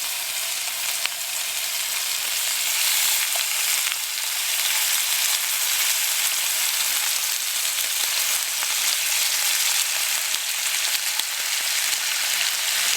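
Bacon frying over an open wood flame on an Evil Eyes wood camp stove, a steady, dense crackling sizzle that holds unbroken throughout, close by with no voices.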